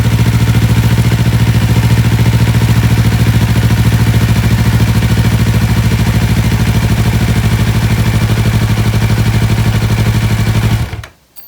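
Yamaha MT-03 2023 motorcycle engine running after a hot start with the button, a loud steady close-up idle hum lasting about eleven seconds before cutting off abruptly.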